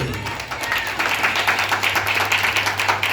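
A church congregation at a Sunday service claps hands together in a steady, rhythmic beat, a dense room-filling sound over a low hum, continuing throughout.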